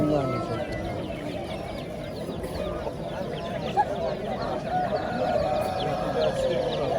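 Chickens at the Qoraqamich poultry market in Tashkent: a constant din of clucking and crowing fowl close by, with market chatter and voices running beneath throughout.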